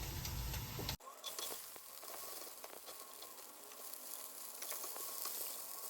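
Mixed vegetables sauté in hot oil in a wok for Tamil-style char kway teow, giving a steady, close sizzle and crackle. A short louder burst opens the clip, then continuous frying noise with small pops and scrapes continues on its own.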